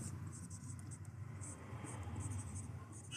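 Chalk or marker scratches across a classroom board in short strokes, faint and close, with a low room hum beneath.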